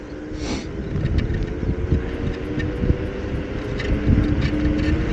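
A 2021 Motus Pro 10 Sport electric scooter riding on one motor in second gear, steady whirring drive mixed with heavy wind rush across the microphone, continuous and fairly loud, no talk.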